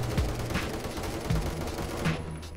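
Roblox gunfire, rapid automatic bursts rattling in a dense stream with a few heavier low thumps recurring, moderately loud and continuous, with no speech.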